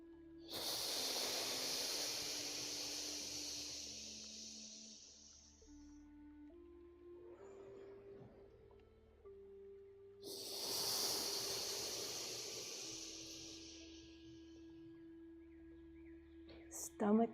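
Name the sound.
voice imitating lung breathing sound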